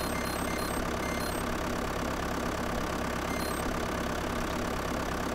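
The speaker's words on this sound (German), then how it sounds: "Mit dem Trecker hier irgendwo lang zu fahren, das ist eh eine Zumutung." A tractor engine in the farming game Landwirtschafts-Simulator 2011 drones loud and constant, a dense, unchanging rumble with no pauses and no speech over it.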